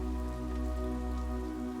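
Steady rain falls and patters on surfaces, an even, continuous hiss with no breaks, fairly soft and heard alone without voices.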